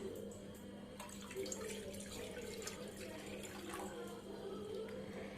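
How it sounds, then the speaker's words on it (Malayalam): Two cups of water pour into a cooking pan in a home kitchen, a steady splashing stream lasting several seconds with faint clinks and kitchen noise alongside. "ഇനി ഒരു പാനിലേക്ക് 2 കപ്പ് വെള്ളം ഒഴിച്ചു കൊടുക്കാം."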